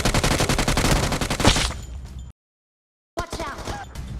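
Rapid automatic gunfire in PUBG Mobile, a fast burst of loud close shots for over a second, then a brief silence before more sound resumes.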